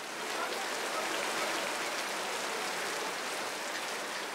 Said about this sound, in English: Although the monsoon season is actually over, there are constant downpours